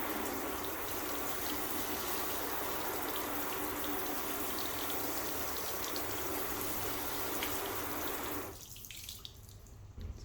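Water floods steadily over a car panel treated with a graphene spray wax, making a continuous close hiss and splash that cuts off abruptly near the end.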